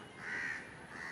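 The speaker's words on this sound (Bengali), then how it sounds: "কাকের ঝাঁক বসে আছে আর ওখানে বসে কাকা করে ডাকছে" Crows in a flock perched in a tree, one drawn-out caw standing out over faint outdoor background noise, with no talking.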